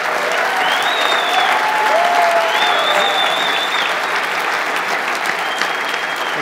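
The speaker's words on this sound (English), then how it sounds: "One more round of applause to our candidates" Sustained audience applause at a Kansas Republican gubernatorial debate, a dense steady wash of clapping from a large crowd filling the whole stretch, with faint tonal sounds drifting above it.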